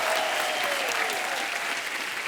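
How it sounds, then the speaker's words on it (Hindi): Studio audience applause on the Indian comedy talk show The Kapil Sharma Show, a dense, loud roar of clapping that holds steady throughout with a faint voice gliding briefly over it. "एक बार जोरदार तालियां हो जाए"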